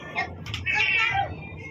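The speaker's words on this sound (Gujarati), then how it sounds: "સરસ મજાનું બચ્ચું આવ્યું હતું પણ અમારે મહેતુ એને હેરાન કરે છે એટલે ભાગી જાય છે" A kitten gives a short, high meow close by, tangled with a person's voice and a faint household knock.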